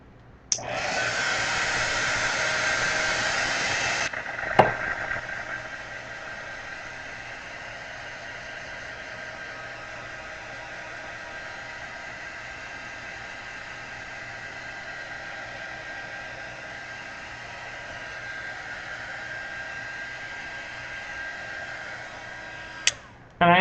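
A hair dryer dries a watercolor and collage painting, starting with a loud airy blast for about four seconds, then running on at a steady lower hum for a long stretch before clicking off, with no voices.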